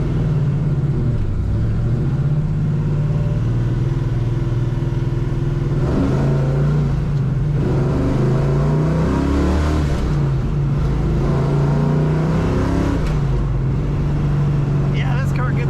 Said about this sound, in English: Amazing sound from this car's exhaust.